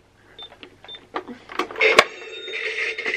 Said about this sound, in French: C'était ma caisse enregistreuse.